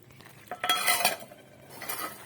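A spoon stirs about 100 grams of boiled moong dal into a pan of banana stem kootu, giving a short burst of scraping and clinking midway, then a softer second scrape, close and fairly quiet with no talk.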